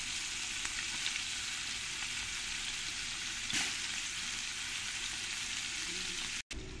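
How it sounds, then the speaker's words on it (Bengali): Large pieces of paneer frying in hot oil make a continuous, even sizzle close by. A brief dropout comes near the end, and no one speaks. "আমি এবার পরের পনিরগুলো একই রকম করে আমি ফ্রাই করে নেব"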